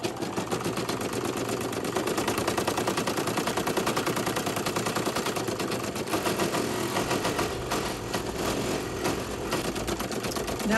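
An embroidery machine stitches the underlay on a key fob, a steady fast mechanical chatter of rapid needle strokes running continuously and fairly loud throughout, with no talk.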